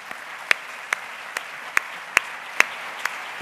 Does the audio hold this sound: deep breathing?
no